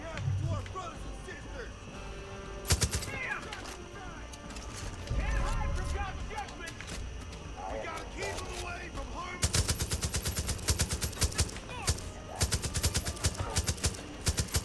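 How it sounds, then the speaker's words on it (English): A heavy machine gun fires in Far Cry 5 in loud, rapid bursts of closely spaced shots, with a brief burst early on and longer sustained volleys later, over game ambience and a talking player. "This fucking heavy machine gun tears."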